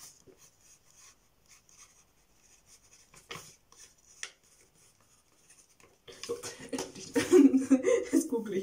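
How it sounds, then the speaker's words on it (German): A pen or pencil scratches briefly on paper as a quick note is jotted down, faint and close, with scattered soft scribbles before a person starts speaking and laughing near the end. "das schreibe ich mir mal ganz kurz auf"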